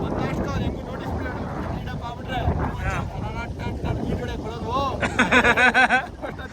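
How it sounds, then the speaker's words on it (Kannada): Gusts of wind at Kanva Reservoir buffet the microphone in low rumbling bursts while people talk loudly nearby, with a strong blast near the end. "ಅದು ಗಾಳಿ ಮಾಮ್"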